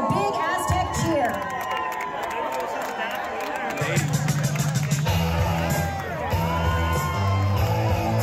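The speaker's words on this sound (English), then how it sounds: "give them a big Aztec cheer" A stadium crowd at a high school football game cheers and whoops for alumni and staff from the 1980s, with a sustained roar over several seconds and a few shouted voices rising above it.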